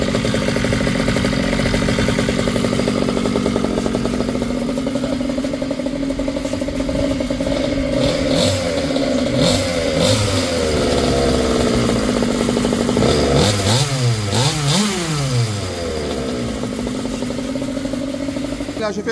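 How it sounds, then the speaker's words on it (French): A nitro RC car engine runs steadily just after starting, a loud buzzing idle with brief revs that rise and fall partway through, breaking in on the spot with no talk. "je vais la laisser tourner un petit peu comme on fait pour un buggy nitro, pour une voiture nitro tout simplement, pour un moteur nitro"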